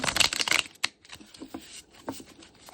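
A tarot card deck being shuffled by hand, with a dense burst of riffling flutter up front, then sparser close card slaps and soft shuffles that trail off quietly.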